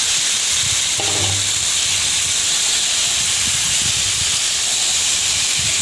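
Onions and whole spices, including cardamom, sizzle in hot oil in a wok, giving a loud, steady hiss with faint crackles underneath and no talking.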